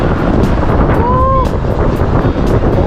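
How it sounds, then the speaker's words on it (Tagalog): Strong headwind roars continuously against the microphone on a motorcycle ride toward Lucena, loud and blustery, with a brief faint tonal whine partway through. "lakas ng hangin dito papuntang Lucena mga karaydo headwind"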